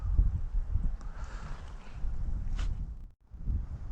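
Wind gusts across an ice fishing spot in uneven buffeting rushes that swell and fade, with a short lull near the end before picking up again.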